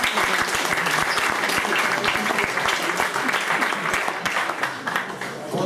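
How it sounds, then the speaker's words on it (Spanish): Loud, dense audience applause for a volunteer called up during a live presentation, steady throughout and thinning slightly toward the end. "un aplauso"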